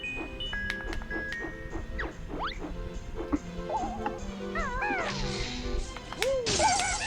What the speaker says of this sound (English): right now I'm telling my cat that she cannot have third dinner